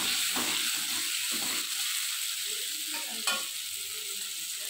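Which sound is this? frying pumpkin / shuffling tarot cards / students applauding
frying pumpkin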